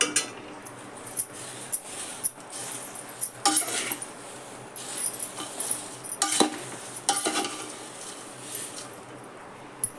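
Light scraping and clinking of a spoon stirring dry poha flakes for chivda in a pan, with irregular rustling bursts at a moderate distance and no talking.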